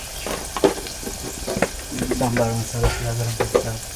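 Onion and masala stirred in a pan for a mung dal amti, with soft scraping strokes and a light sizzle, interrupted by brief clinks and a voice speaking over the cooking.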